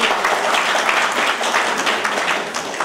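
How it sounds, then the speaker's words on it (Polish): Audience applause at a seniors' club ball in Drelów, Poland: steady, dense clapping from a room full of people, loud and continuous throughout with slight swells. "To wielkie brawa"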